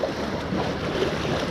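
Sea waves wash and crash against a rocky coastal cliff in a steady broadband roar mixed with wind buffeting the microphone, with no voices heard.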